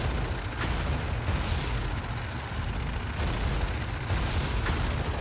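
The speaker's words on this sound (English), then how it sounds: "Explosions inside the refinery compound." Continuous rumbling explosions and booms in Tom Clancy's EndWar at a refinery compound, with several sharp blasts punctuating a dense, noisy roar; no voices.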